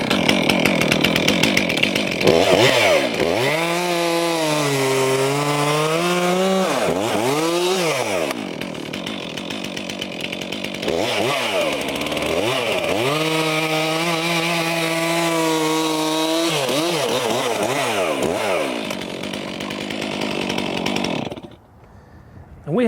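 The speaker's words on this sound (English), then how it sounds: "Then I'm going to cut up and show you how the saw wants to push back out of the cut" A chainsaw cuts into wood, its engine snarling loud and close, the pitch sagging and climbing as the bar bogs in the cut and revs back up across several passes before it drops away near the end.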